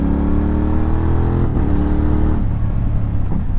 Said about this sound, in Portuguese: a Moto Morini conseguiu homologar na Europa este barulho